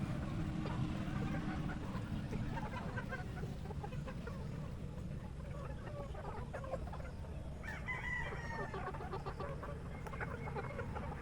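Tethered gamefowl clucking in the cording area of a game farm, with a rooster crowing at a distance, set against a steady low background rumble.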